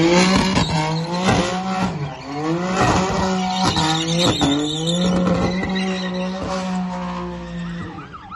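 A BMW M3 on a local road in Sea Point revs hard, its engine note rising and falling through throttle blips and gear changes, with tire squeal. The sound is loud, close and continuous with no talk.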